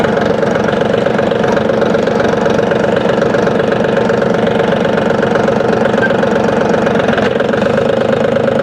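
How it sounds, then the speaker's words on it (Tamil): A Powertrac Euro G-28 4x4 tractor engine runs steadily and loudly throughout as the machine is driven and braked, a dense continuous diesel drone with no talk over it. "நான் பிரேக்கு போட்டு பார்க்குறேன் ரன்னிங்கில் எப்படி இருக்குன்னு நீங்களே பாருங்கள்"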